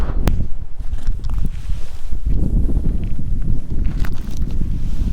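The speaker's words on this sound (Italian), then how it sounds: "Il vento è sostenuto" Strong gusting wind roars and buffets steadily against the rider's microphone on a BMW R1200 GS Adventure motorcycle on an empty Tunisian road, a loud, rough rumble with occasional rustling bursts and no voices.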